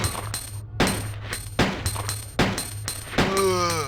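Zombie being shot in the Resident Evil 2 video game: five sharp, loud gunshots at steady intervals, each with a short echoing tail, the last followed by a ringing metallic tone.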